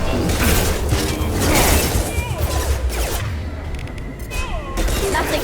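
Gunfire and explosions in a Mass Effect 2 battle, dense overlapping shots, booms and clattering effects throughout, with voices calling out over the fighting.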